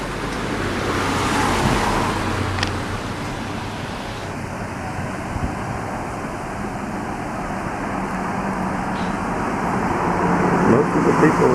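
Cars drive past on a road in Grand Cayman, a steady broad roadway rush with swells as vehicles pass, heard under people talking.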